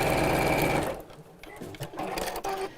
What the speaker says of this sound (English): Right, so I'm just sewing down each side.